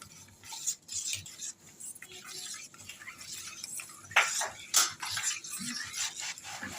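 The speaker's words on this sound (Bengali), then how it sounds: "এটা ভালো করে নেড়ে গুলে নেব এর সাথে" Milk powder stirred into a milky mixture in a pot, with soft irregular scraping and clinks of a spoon against the metal, close and fairly quiet.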